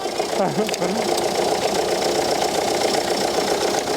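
A car engine idles steadily right after being started with a REEG portable jump starter and air pump unit, a continuous close mechanical hum with no pauses, and a voice briefly sounds faintly over it near the start.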